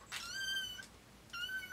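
A kitten gives two short, high meows indoors, the first fuller and the second after a brief pause, fairly close and with nothing else over them.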